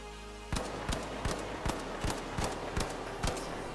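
The LH1 light gun in the video game The Finals fires eight evenly spaced sharp shots at a steady semi-automatic pace, loud and close over a constant background hum.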